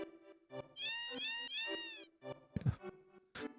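A cat in Final Fantasy VII at Icicle Inn meowing several times in a row, clear drawn-out mews with short gaps and a brief rougher burst, heard alone.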